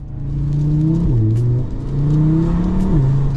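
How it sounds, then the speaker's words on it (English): A five-cylinder engine in an Audi RSQ3 revs hard and close, rising, dipping briefly and climbing again in two strong surges with no talk over it. "Listen to the engine in this car is the party piece in this car."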